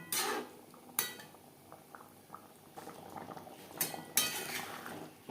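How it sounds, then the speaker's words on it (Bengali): Shing fish curry simmers in a pot with green banana in its gravy, bubbling softly at close range while sharp metal clinks of a spoon against the pot break in now and then, with no talking. "তিন চার মিনিট গ্রেভির সাথে মাছ রান্না করে নেব"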